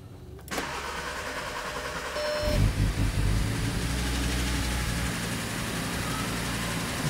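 An Audi RSQ3 petrol engine, in poor condition and short of fuel, cranks and catches at close range, then settles into a loud, steady running rumble with no talk over it.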